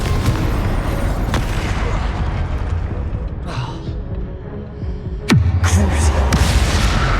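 Fiery Confringo blasting spells go off in the Hogwarts Legacy video game, with rumbling booms under steady combat hum and one sharp, loud explosive crack near the end, followed by a deep throbbing tail.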